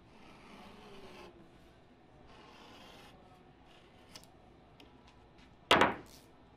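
A fresh utility blade slices through carpet during a seamless carpet wrap, with soft rubbing and scraping passes, a couple of faint ticks, then a short sharp rasping cut near the end.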